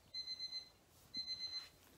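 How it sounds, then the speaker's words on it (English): A kitchen timer goes off with two bursts of rapid, high-pitched electronic beeping, each a quick run of four beeps separated by a short pause, ringing out clearly over faint room noise. "the timer was going off"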